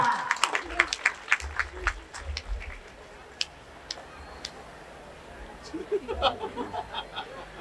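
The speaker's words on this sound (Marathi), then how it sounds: "टाळ्या वाजवा." An audience at a science exhibition talk gives a short burst of clapping, fairly faint and distant, fading out and then returning briefly with scattered claps and murmurs.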